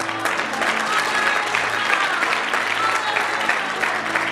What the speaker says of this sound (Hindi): आधा लोग ताली नहीं बजा रहे